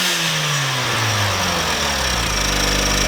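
A Mazda Miata engine, just repaired, starts and runs: a low mechanical drone that rises in pitch as it revs up, then settles into a steady, loud idle with no talking.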